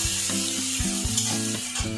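Ginger garlic paste fries in a pan, giving a steady, close, bright sizzle while a utensil stirs now and then with soft scraping clatter; no one speaks.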